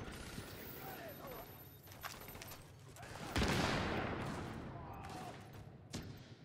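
SMG gunfire in a video game: scattered bursts of shots, then a louder burst with a blast, heard under chatter and game noise.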